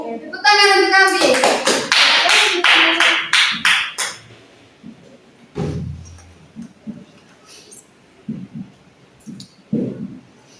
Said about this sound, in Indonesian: Tepuk tangan untuk kami.